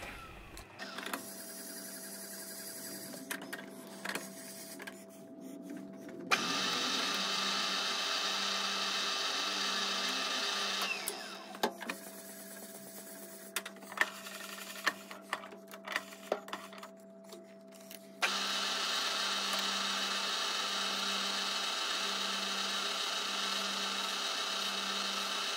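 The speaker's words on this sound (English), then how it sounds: "Next, I need to drill and counterbore the 6 holes in the chuck." Six holes are drilled and counterbored in a shop-made lathe chuck, heard as long stretches of loud, steady machine whirring with a low hum, broken by quieter gaps with clicks and handling noises.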